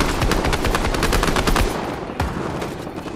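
Rapid automatic gunfire in the Fortnite Chapter 5 Season 4 video game, sustained bursts of loud close shots that ease into fainter, sparser fire toward the end.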